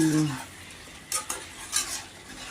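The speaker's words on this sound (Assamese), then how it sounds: "মই চিকেনটো দিলোঁ দি ধুনীয়াকৈ ভাজিম" Chicken fries in masala in a pan: a soft sizzle runs beneath several sharp metallic clinks of stirring, after a brief voice at the very start.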